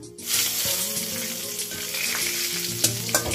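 Nigella seeds and two green chilies frying in hot oil in a pan where fish was just fried, a steady close sizzle with a few sharp pops and spatters, no voices.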